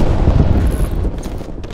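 Gunfire aimed at a tank during a Domination match in Call of Duty Black Ops Cold War on the Crossroads map: loud, dense, continuous shooting with booming impacts, fading slightly toward the end.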